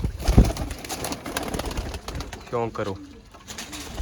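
Pigeons coo in soft, repeated, throaty calls among a flock, with some wing and cage noise, while someone talks over them.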